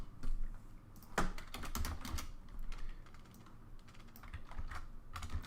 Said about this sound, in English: You'll have to forgive me for being slow with the typing.